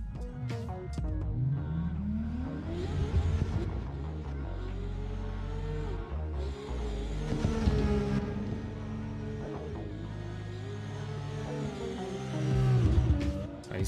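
BMW E46 custom drift car at an ESDA drift qualifying round at Irwindale, engine revving and climbing through the rpm range with tire squeal, loud and sustained with a surge near the end.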